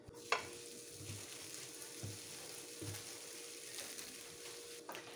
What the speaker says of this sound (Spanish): Le vamos a poner un poco de aceite. Y obviamente vamos a poner la carne.